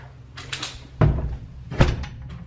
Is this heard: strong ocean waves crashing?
no